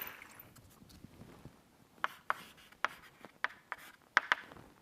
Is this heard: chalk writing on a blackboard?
yes